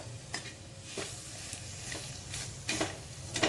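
Makhana and dates sautéing in a pan, a soft sizzle with rhythmic stirring scrapes of a spatula every half second or so, close and fairly quiet with no talking.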